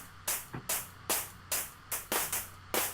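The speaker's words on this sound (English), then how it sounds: "I can actually add white noise to it to give it kind of, again, that analog 808 sound." Bursts of white noise shape an analog-style 808 hi-hat, about nine evenly spaced hissing hits with quick attacks and short fades, over a faint low hum, with no voices.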